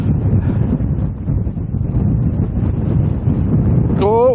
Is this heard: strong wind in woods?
yes